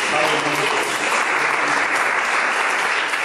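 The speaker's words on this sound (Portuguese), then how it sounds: "aplauda o Senhor" A church congregation claps in a steady, dense burst of applause lasting a few seconds, with some voices mixed in.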